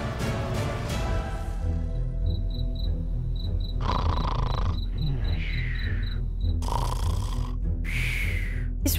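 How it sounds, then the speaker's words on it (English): A boy snoring loudly in a Roblox game scene, several long rasping snores over a steady chirping insect background. "Oh my gosh, he snores so loud."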